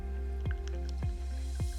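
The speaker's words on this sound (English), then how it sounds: "So first of all, we're gonna add our fish sauce, 2 tablespoons of fish sauce." Fish sauce goes in for a Thai-style noodle salad, falling as three distinct plopping drips spaced about half a second apart, close and clear over a low steady hum.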